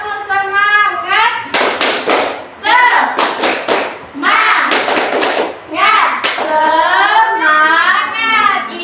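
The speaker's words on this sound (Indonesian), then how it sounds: "Semuanya mari kita tepuk semangat yuk." A school class does a rhythmic 'tepuk semangat' clapping chant, with children's voices and a teacher chanting in a set pattern while hands clap and thump in time, loud and close throughout.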